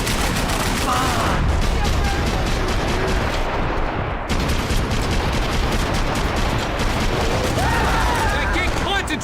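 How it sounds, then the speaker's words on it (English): Dense, continuous gunfire fills a Max Payne 3 shootout, with rapid overlapping shots, bursts and bullets whizzing past, loud and close throughout, while voices shout intermittently over the barrage. "I can't concentrate with bullets whizzing past my head!"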